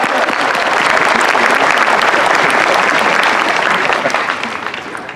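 A commencement crowd at a university graduation ceremony breaks into loud, sustained applause, dense clapping that holds steady before thinning slightly at the end.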